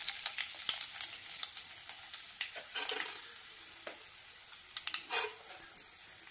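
Dried red chillies frying in hot oil with mustard seeds, cumin and chana dal for thotakura pappu, giving a steady crackling sizzle with sharp pops and a louder burst of spitting near the end.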